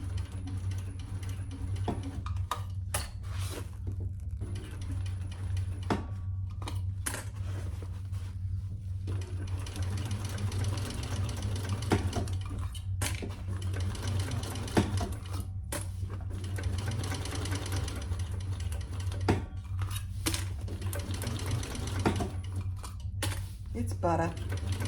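A sewing machine stitches a seam on a crossbody bag fitted with a D-ring, running in steady rattling bursts separated by short pauses, with a person talking over the mechanical whirr.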